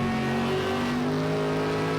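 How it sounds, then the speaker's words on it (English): A Jaguar Group C race car engine in Project Cars 2 at the Catalunya circuit holds a steady, droning, harmonic tone, close and constant, with no voices. "you can hear the Jaguar in front almost more than you can hear the engine of this Mercedes"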